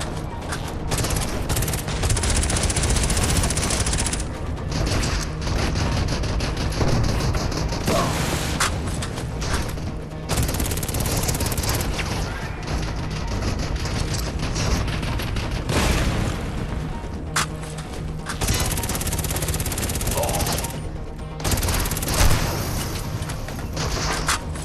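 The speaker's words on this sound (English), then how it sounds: "Shots!" The VR shooter Crossfire: Sierra Squad fills a long stretch with dense, sustained gunfire: rapid automatic bursts and single cracks with occasional heavier booms, loud and near, in shifting waves with only brief lulls and no clear speech.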